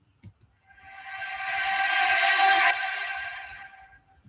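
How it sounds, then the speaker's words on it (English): A reversed vocal with reverb swells gradually into a rising riser, its sustained tonal wash growing louder, cutting off sharply at the peak, then a faint reverb tail fades out. "it's just a riser of a vocal that has some reverb on it"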